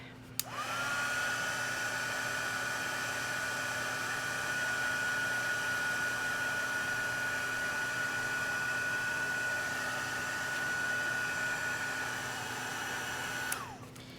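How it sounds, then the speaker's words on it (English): A hair dryer switches on, blows with a steady high whine and rushing air for over ten seconds, then clicks off. "I think I might hit this with the dryer just a bit."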